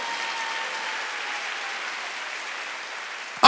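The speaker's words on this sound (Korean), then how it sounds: "빨리 박수하자. 다 해야 돼. 다 해." A church congregation claps together, a steady wash of applause at moderate level that runs throughout, ending with a sharp loud burst at the very end.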